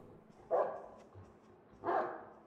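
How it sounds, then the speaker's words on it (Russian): A dog barks twice in the video game Marvel's Guardians of the Galaxy, two short muffled barks about a second and a half apart, at a moderate distance with no talk. "собака лает"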